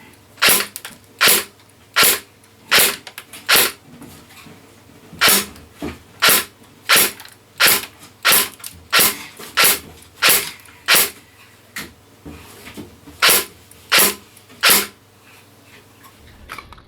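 Airsoft AEG, an EMG/ARES Kel Tec RDB, firing 0.2 gram BBs through a chronograph: about twenty sharp, evenly spaced single shots, loud and close, with brief pauses between small groups.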